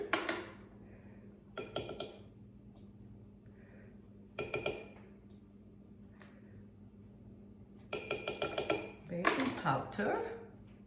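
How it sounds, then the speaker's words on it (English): Flour, baking powder and other dry ingredients are mixed in a bowl, making short clinking, scraping bursts of utensil against the bowl, separated by quieter pauses. "I'm going to mix my dry ingredients now. I have flour, baking powder"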